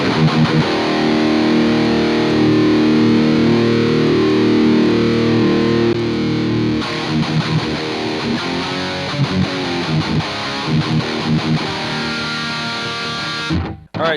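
Heavily distorted electric guitar runs through an Engl Fireball IR pedal loaded with a 2x12 cabinet impulse, playing loud sustained chords, then a choppier rhythmic riff, ending abruptly.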